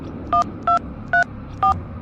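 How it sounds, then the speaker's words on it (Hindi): Four evenly spaced electronic keypad tones ring out as a phone number is dialed, each beep short, clear and close, with quiet room noise between them. "पंडित को फोन लगाता हूँ।"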